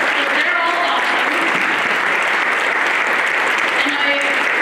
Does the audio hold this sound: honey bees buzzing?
no